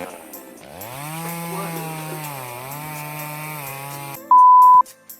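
A chainsaw runs close by with a steady, revving whine for about four seconds, then cuts out; a loud electronic beep follows briefly.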